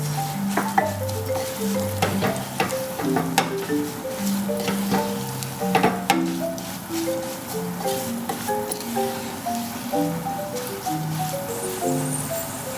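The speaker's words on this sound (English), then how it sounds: "Let the mixture cook for a moment and allow the ingredients to merge together" A garlic mixture for fish pickle fries in a pan with a steady sizzle and crackle, broken by irregular sharp clicks and scrapes of stirring, all close and fairly loud, while faint tonal music runs underneath.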